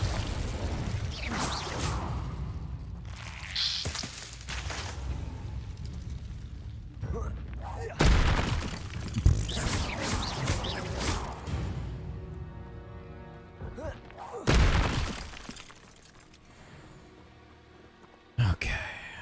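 In Hogwarts Legacy, a Confringo explosive spell goes off with heavy blasts and whooshes amid game effects, and a person talks over the action.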